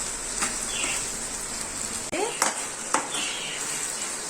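Chopped medium tomatoes are stirred through a hot pan for a shahi dum aloo masala, giving a soft sizzle broken by a few quick spoon scrapes against the pan.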